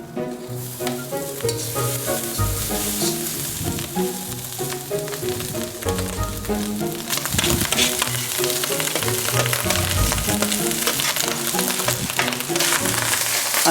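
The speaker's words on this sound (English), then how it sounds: "just give it a quick stir again. Try and get that rice across the whole surface of the wok." Prawn fried rice with dashi powder, Japanese-style yakimeshi, is stir-fried in a wok, producing loud, continuous close sizzling with constant scraping stirs that grow more intense toward the end.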